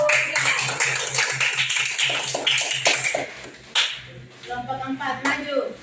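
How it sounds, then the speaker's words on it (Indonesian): Classroom students clap for a presenting group in an Indonesian sixth-grade lesson, with a run of quick, uneven hand claps and taps near the microphone. Voices and room chatter continue beneath them. "kelompok 1 kita tepuk tangan untuk kelompok 3"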